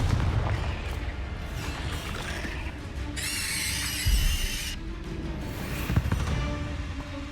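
Confringo blast spell in the Hogwarts Legacy video game lands as a heavy explosive boom over a dense, rumbling battle din, followed by a bright crackling burst and further thuds, loud and close throughout.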